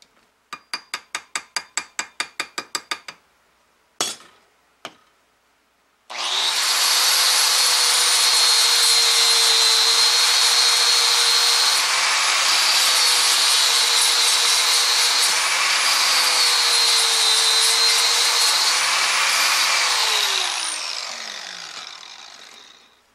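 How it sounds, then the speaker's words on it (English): A small angle grinder fitted with a sanding disc knocks weld spatter off a metal part. A run of rapid clicks comes first, then a loud, steady whine of about fifteen seconds that shifts pitch as it bears down before spinning down. "Use my little grinder with the sanding disc on it to knock off any of that"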